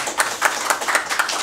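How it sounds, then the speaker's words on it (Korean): A seminar audience clapping in a small council meeting room, steady rhythmic applause with regular peaks about every quarter second, close and continuous for the whole moment, no voices over it. "박수 한번 해주십시오."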